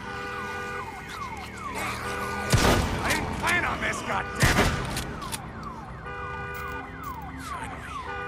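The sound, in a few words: alarm siren sounding in Days Gone video game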